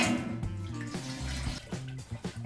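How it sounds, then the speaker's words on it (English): Spring water pours steadily into a brew pot during a 5-gallon Oktoberfest homebrew, a close, continuous splashing with a rhythmic gurgle and no talking. "I'm just gonna start adding 3 total gallons of water."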